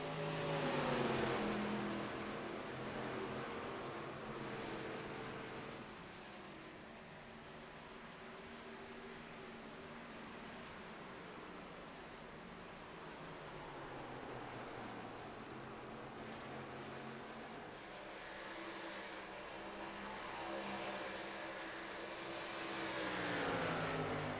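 Racing karts run laps at the Twin Ring Motegi circuit, their engines droning steadily at a distance and rising and falling as they pass. The sound continues without talking for about twenty-four seconds.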